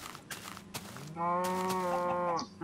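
A cow moos in a Minecraft-style survival game, one drawn-out nasal low call lasting about a second, preceded by soft in-game footsteps and clicks.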